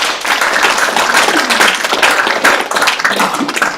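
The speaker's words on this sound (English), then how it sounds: "I'd like to ask that you give the judicial branch staff a round of applause." Dense audience applause for judicial branch staff at a government gathering, many hands clapping steadily and fairly loudly throughout without talk.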